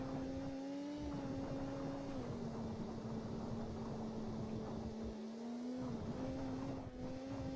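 A Daihatsu Sirion driven in a racing video game: a steady, droning engine note held at high revs with small pitch shifts during gear changes, continuous and unbroken throughout with no talk.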